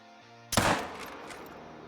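A 45-70 pistol fired at a kudu in the hunting game Call of the Wild: one sharp, loud gunshot about half a second in, followed by a long rolling echo that fades slowly.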